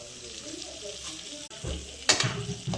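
Curry leaves drop into hot ghee already tempered with asafoetida, mustard seeds, cumin and green chillies for curd rice, a soft steady sizzle that swells into a sharp crackling burst near the end.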